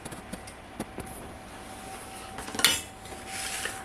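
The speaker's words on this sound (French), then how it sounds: "Donc je vais la couper, en mettre une par sur une assiette." A puff pastry tart with mushroom, spinach and tomato is cut and a slice set on a plate, giving several light clinks of cutlery on a dish and one sharper clatter near the end, with quiet background between.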